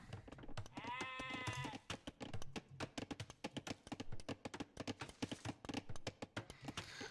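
Sheep bleating in a video game match: a long wavering bleat near the start, followed by a rapid stream of clicks and taps, with no voices.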